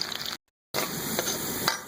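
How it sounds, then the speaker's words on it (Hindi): Onions sizzle steadily in hot oil, a dense crackling hiss that stops abruptly for a moment and then resumes. "हस्बे ज़रूरत ऑयल लेंगे और इसमें प्याज डाल देंगे। इसे लाल करेंगे।"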